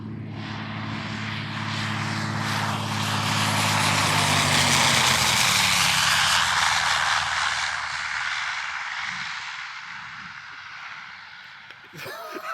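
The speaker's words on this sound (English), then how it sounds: "land in Echo Yankee Zulu's sister aircraft, Kilo Juliet November" Light propeller airplane passing close on a runway landing, its engine drone swelling loud then fading as it moves away, with faint voices near the end.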